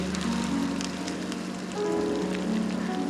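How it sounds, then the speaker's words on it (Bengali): Fried pointed gourd being stirred together with rice in a pan for a vegetarian dish, giving a steady, dense sizzling hiss with soft scraping throughout, close and continuous with no talk. "ভেজে রাখা যে পটলগুলো সেগুলো দিয়ে দিলাম একসঙ্গে নাড়াচাড়া করে ভালো করে মিশিয়ে নিচ্ছি"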